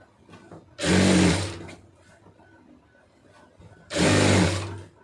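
A sewing machine stitches the hem of a blouse in two loud, close bursts of rapid whirring, with a quiet pause between them and no talking.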